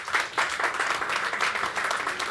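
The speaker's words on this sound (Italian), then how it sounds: "Mi sembra che questo meriti un piccolo applauso." An audience at a Fiat 500 Collezione presentation in Milan applauds, a dense, steady patter of many hands clapping close by, with no talk over it.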